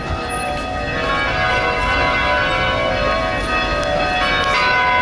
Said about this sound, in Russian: Вечерний звон.